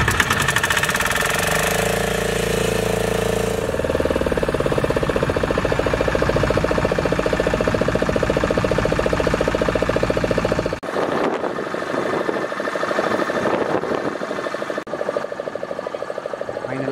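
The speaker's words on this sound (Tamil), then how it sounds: "ரீச் ஆகி போட் ஏறி இப்போ ட்ரிப்பும் ஸ்டார்ட் ஆகிடுச்சு" A boat engine throbs steadily during a sea trip, a loud close chugging drone that shifts in tone partway through and then turns rougher and more broken with knocks and clatter, with no talk over it.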